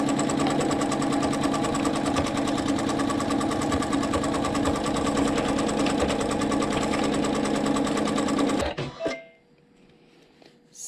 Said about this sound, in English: I'm going to stitch step 1 for block 7,